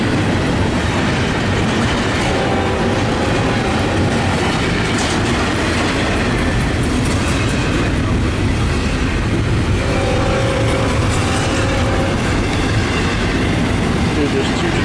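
Westbound and eastbound trains meet, one led by an ex-Southern Pacific locomotive, rumbling past nearby with steady rail noise and clickety-clack throughout.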